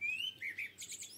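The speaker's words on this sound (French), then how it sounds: "on a un petit merle chanteur qui vient nous accompagner dans la guidance." A blackbird singing from the trees, a faint short phrase of clear whistled notes followed by higher chirps, distant and alone.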